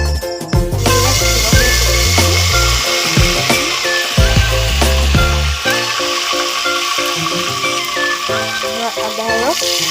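Garlic juice and ginger juice are poured into a hot pan of sugared oil for pulao, setting off a loud, steady sizzle and crackle close by. Scattered clinks and a voice come in at moments over the frying.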